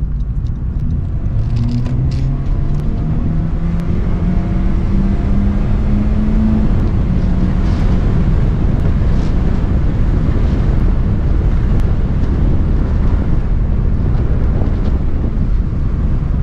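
A 2016 Honda Civic with a junkyard replacement engine accelerating on the road, a steady loud rumble of engine and road noise with rising tones as it speeds up, buffeted throughout by wind noise.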